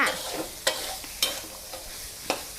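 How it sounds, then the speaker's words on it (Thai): Pea eggplants and fish stir-fried in a pan: a steady close sizzle broken by a few sharp scraping strokes of the spatula, spaced about half a second to a second apart. "เราจะเอามาผัดกับปลาแบบนี้เลยนะคะ"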